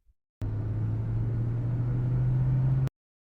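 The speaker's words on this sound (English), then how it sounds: "I'll drive the car." A car engine drones steadily for a few seconds, a continuous mid-pitched hum with low rumble that starts and stops abruptly, with no voices over it.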